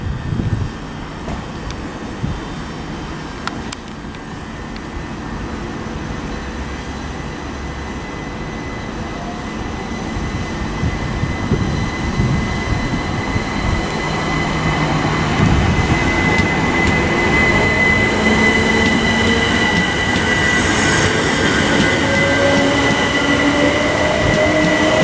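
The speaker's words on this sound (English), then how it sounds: "departing now is going to be the 1153 Southern service to East Croydon from Milton Keynes Central" A Southern passenger train pulls out of Watford Junction station on the West Coast Main Line with a loud, steady rumble of wheels and traction that builds over time, and faint squealing tones rise toward the end.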